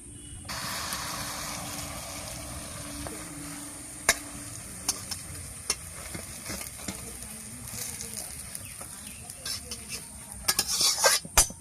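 Pieces frying in a pan, a soft sizzle underneath frequent clinks and scrapes of a metal utensil stirring and turning them, growing busier toward the end.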